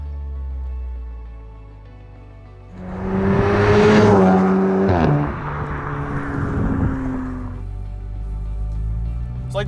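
A tuned Volkswagen Mk7 Golf R idles, then surges into hard acceleration with a loud, rising engine roar lasting a few seconds before easing back to a steady, lower drone.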